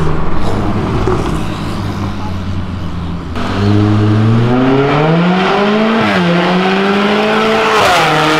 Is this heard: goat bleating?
no